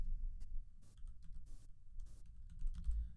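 A computer keyboard being typed on in short, quiet bursts of light clicking keystrokes, separated by brief pauses over a low background hum.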